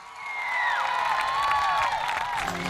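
A concert audience at an outdoor RisorgiMarche show welcomes the singer with a dense, continuous roar of applause, cheering and whistles that stays loud throughout.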